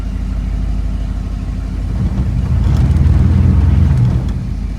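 A 1956 Ford Thunderbird's engine idles in drive, a steady close low rumble that swells slightly louder partway through, with no talk over it.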